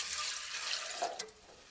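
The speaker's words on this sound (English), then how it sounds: "Then I take my mixture of bad gasoline and kerosene," A short, quiet trickle of a bad gasoline and kerosene mixture is poured into a waste oil heater furnace, a soft, splashy liquid stream with no talking.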